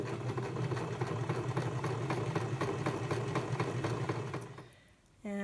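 A home sewing machine stitches fabric mask pieces together, a steady loud rapid mechanical whir running for several seconds before it stops abruptly, followed by a short whirring wind-down.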